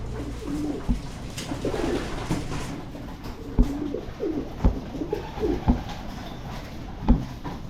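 Pigeons coo in soft, low, repeated murmurs around a loft, with occasional sharp flaps and thuds as birds take off and land nearby.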